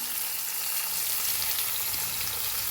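Onion, small shallots, green chili, ginger, garlic and curry leaves fry in hot oil for a radish curry, giving a steady, dense sizzle that holds at an even level throughout with no voices.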